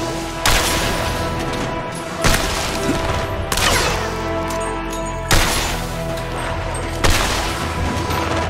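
Loud, repeated gunfire as enemies are shot down in the co-op video game Killsquad. Heavy blasts land roughly every one to two seconds over a dense, continuous battle din.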